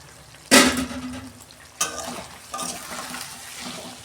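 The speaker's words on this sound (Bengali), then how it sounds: "দেখুন বন্ধুরা ঢাকনা খুলছি" A lid comes off a pan of chicken cooking in oil on a gas stove, with a sharp clank followed by steady frying sizzle and a couple of lighter clatters as the lid is handled.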